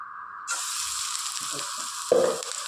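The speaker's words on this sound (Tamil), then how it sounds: "இதுக்கு வந்து எண்ணெய் ஊற்றிருக்கிறேன் வடகம் போட்டுக்கலாம் வடகம் போட்டு தாளிச்சிக்கலாங்க" Vadagam drops into hot oil for a tamarind curry tempering and bursts into a sudden bright sizzle, followed by a steady hiss of frying with a few soft stirring clatters and a louder spatter near the end.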